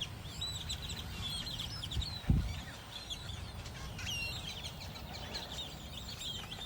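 A flock of grackles calling from trees beside a rural road, a continuous dense chorus of squeaky, creaky chirps and whistles at moderate distance over low background rumble, with a brief thump near the start.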